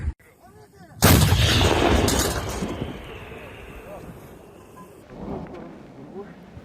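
An artillery gun fires during a fire mission, giving one loud, close boom that rolls into a long rumbling decay. A fainter thud follows a few seconds later.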